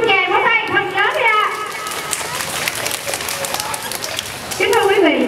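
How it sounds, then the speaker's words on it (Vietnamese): Audience applause at a kindergarten school festival, a dense wash of clapping rising in the middle, with an amplified speaker's voice over it at the start and end and children's voices mixed in. "Xin một tràng vỗ tay thật lớn ra."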